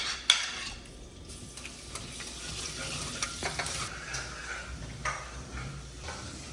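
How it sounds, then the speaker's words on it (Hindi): Asafoetida and spice masala sizzling in hot oil for an Indian dal tempering, a steady close frying hiss with a few light clinks of a utensil stirring in the pan. "हमारा तेल हो गया है गरम। अब हम डालेंगे हींग।"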